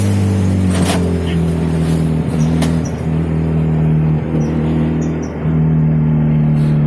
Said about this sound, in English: Needs more fuel, it's choking.